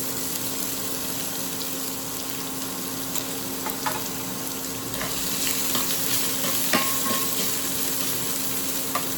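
Finely chopped onions, two of them, fry in a pan with a steady broadband sizzle, occasional stirring clicks and scrapes rising through the middle and later part, no voices.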